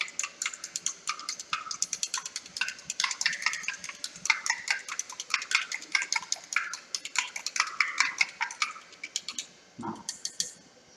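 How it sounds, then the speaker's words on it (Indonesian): A spoon stirs salt into water in a glass, making a quick, irregular run of bright clinks and scrapes against the container, close and clear, with a short pause and a duller knock near the end. "Kita aduk hingga kita pastikan semua garamnya"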